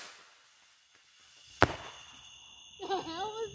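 A firework launches outdoors with one sharp, loud bang, then a fading hiss, and people start talking right after.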